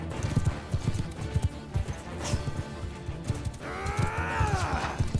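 Horse hooves clip-clop at a gallop in the Mount and Blade Bannerlord battle game, a rapid uneven drumming that ends in a loud whinny, with no talk over it.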